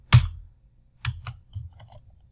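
Computer keyboard keys tapped while typing letters into a browser word game, a crisp opening keystroke followed by a short burst of several lighter clicks, close and clear with no talk.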